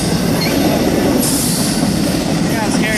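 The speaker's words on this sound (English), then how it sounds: "Take a train coming at you like that." A train comes straight at the listener on the tracks in summer, a loud, steady rumble of rolling wheels with a high metallic squeal joining partway through. No voices are heard.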